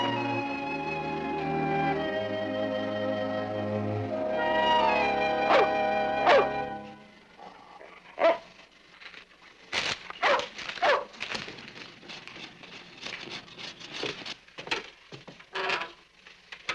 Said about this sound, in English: He's a sweet dog.